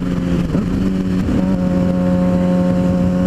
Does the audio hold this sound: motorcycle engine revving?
yes